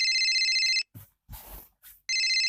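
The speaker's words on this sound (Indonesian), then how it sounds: "Kayaknya ada telepon nih." A mobile phone rings with a repeating electronic ringtone, loud and close, stopping for a moment while some rustling and brief noises are heard, then ringing again.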